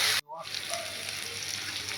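Pointed gourd and eggplant fry in a wok, a dense, steady sizzle close by that swells up after a brief cut at the start and carries on evenly.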